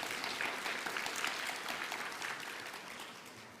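An audience at a Korean real-estate investment concert applauds a guest speaker, a dense, even wash of many clapping hands, fairly soft and distant, fading slightly over a few seconds.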